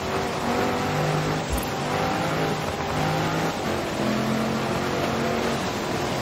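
A Range Rover Sport SVR in Forza Horizon 4 holds a loud, steady engine drone with harmonic tones rising and falling as it drifts, plus a brief low thump partway through.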